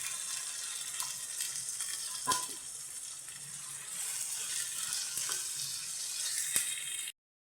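Chicken livers fry in ginger garlic paste, a steady close sizzle with scattered crackles and a few sharp spoon clinks against the pan, running evenly until it cuts off abruptly.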